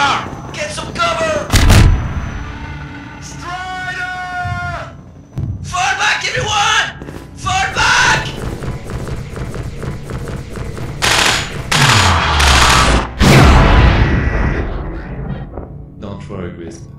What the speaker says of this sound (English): it's just a matter of time before they send in the big artillery